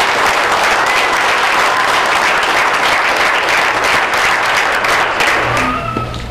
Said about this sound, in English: I'd like to give you all a round of applause for everything you've done.